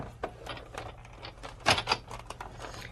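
Sizzix die-cutting machine cranked by hand as a plate sandwich with blue paper and a stencil feeds through, giving a quiet run of irregular clicks and ratcheting knocks, close up with no talking.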